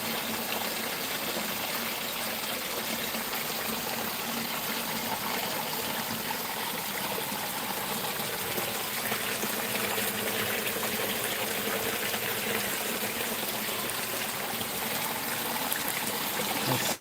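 A creek flows strongly past, a steady, close, full-bodied rush of water over rocks that holds constant for the whole stretch with no voices.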